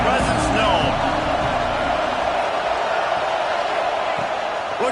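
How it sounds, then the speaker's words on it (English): Stadium crowd at an Arkansas college football game against Texas Tech, a broad steady roar of thousands of fans with a few whoops, while a commentator talks over it. "This crowd ready to make its presence known"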